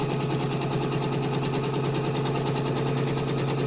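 A sewing machine runs a straight stitch along a zipper in a fast, even chatter of needle strokes. The mechanical pulses continue without a break, close and fairly loud.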